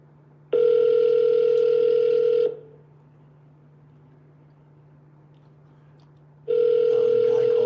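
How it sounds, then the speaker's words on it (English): A telephone line sounds repeated ringback tones while a call is being placed, each steady tone lasting about two seconds with a quiet hum and silence between them. "Dialing."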